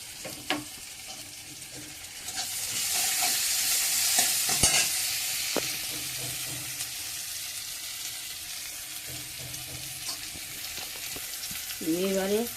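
Oil sizzling in a kadai as a fish curry is started, a steady close frying hiss that swells for a few seconds and then settles, broken by clinks of a stirring utensil against the pan.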